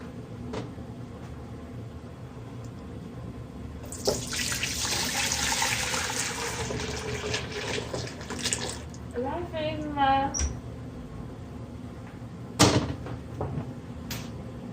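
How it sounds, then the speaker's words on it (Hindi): Two liters of milk poured from a container into a cooking pot for carrot halwa, a gurgling liquid stream that builds then trickles off, followed by clanks of metal utensils. "अब इस बर्तन में मैं 2 लीटर दूध डालूंगी।"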